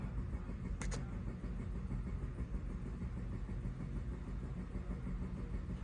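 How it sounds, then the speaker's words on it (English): A Mazda CX-5 engine runs at a steady, close idle throughout, with one brief click near the start and no clear shutdown or restart. "Turn off the car, turn it back on."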